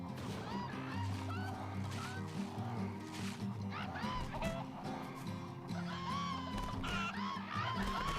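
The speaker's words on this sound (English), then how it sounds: "Yes, we're murdering chickens." Chickens squawk in the Wii video game Tornado Outbreak, repeated clucks and honking cries over a dense game soundtrack with occasional voices.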